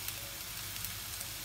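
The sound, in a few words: kefta meatballs frying in olive oil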